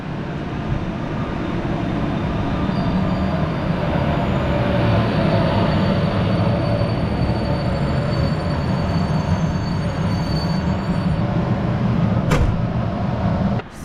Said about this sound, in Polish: Skład został odprawiony i udaje się w kierunku stacji Warszawa Centralna.